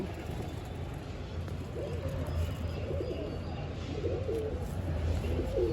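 Soft, low coos from a Makshi pigeon hen in a loft repeat every second or so over a steady rumbling background, fairly faint and distant.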